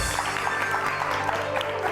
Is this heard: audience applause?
yes